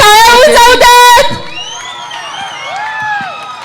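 A festival crowd at a Dahi Handi celebration in Bhosari gives a short burst of loud cheering and shouting, then the noise trails off quickly, with a voice speaking over it.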